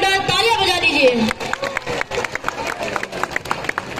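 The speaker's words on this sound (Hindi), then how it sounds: "हमारे बीकेवी बच्चों के लिए एक बार जोरदार तालियां बजा दीजिए" Audience at a Republic Day celebration in Longding, Arunachal Pradesh, breaks into applause for schoolchildren, with scattered, crisp claps building into steady clapping after a voice speaks at the start.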